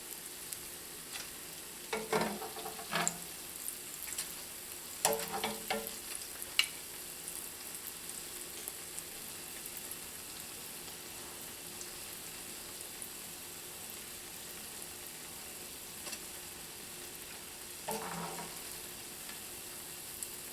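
Hushpuppies frying in hot oil make a faint, steady sizzle throughout, with a few brief louder bursts of bubbling and stirring scattered across the stretch.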